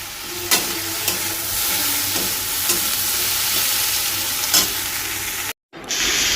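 Sliced onions frying with okra in a pan give a continuous close sizzle, with occasional stirring clicks through it. The sound breaks off briefly near the end and then resumes.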